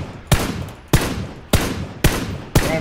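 Gunfire in a shooting video game: five sharp, loud shots at a steady rhythm about half a second apart, each with a short decaying tail, and no talking.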